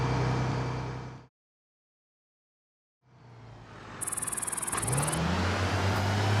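A bus engine in the video game BeamNG is pushed hard while in limp mode: a loud, steady drone cuts out to silence for about two seconds, then returns and climbs into a rising, strained revving pitch.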